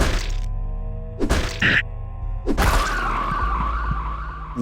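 Character death noise from the video game Psychopomp: a few abrupt thuds and a harsh screeching burst that trails off into a rough, fading tail, with no talking.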